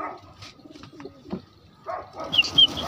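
Pigeons coo and flutter close by, with a burst of wingbeats and bright chirpy calls rising toward the end over a rustling background.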